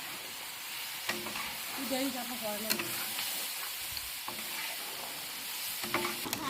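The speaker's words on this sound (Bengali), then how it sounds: "এই যে এখন মাংস ভাজা হয়ে গেছে" Pork meat frying in a pan, with a steady close sizzle and occasional scrapes of stirring throughout, plus faint background voices and clatter.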